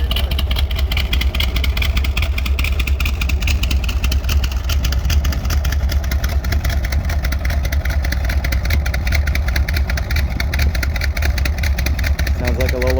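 A 1968 Chevrolet Corvette coupe with a 383 stroker V8 and four-speed idles loudly and close, a rapid even rumbling lope that runs continuously, with voices talking over it.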